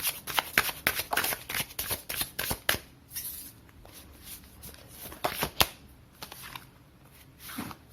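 Tarot cards being shuffled in a quick run of crisp riffling and slapping bursts, with a quieter pause in the middle before the shuffling picks up again, close and clear with no talking.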